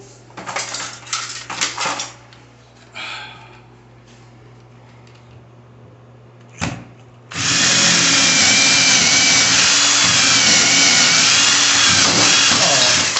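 Power drill boring a hole in wood for a bathroom vanity base: light clicks and taps first, then the drill kicks in loudly and whirs steadily for the last several seconds, close up.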